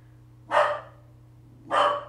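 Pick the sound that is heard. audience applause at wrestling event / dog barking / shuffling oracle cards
dog barking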